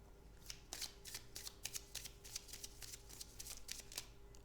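Tarot cards are shuffled in a quick series of crisp riffling bursts, about a dozen in a row, close up and moderately loud with no voices over them.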